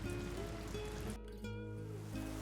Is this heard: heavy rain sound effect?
yes